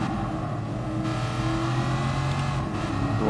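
A 1966 Shelby Cobra 427 V8 in GT Sport revs hard under acceleration, a loud, close, continuous engine roar whose pitch climbs and shifts as gears change.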